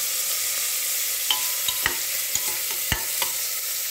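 A spoon stirs mealmaker curry in a sizzling pan, with several sharp scraping clacks at irregular intervals over a constant frying hiss.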